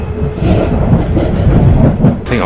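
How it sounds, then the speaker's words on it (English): A London train rides along the rails with a steady, loud rumble and rattle, heard from inside the carriage, with a brief higher screech near the end. "So it's 10 past 11, and this is what the train is like."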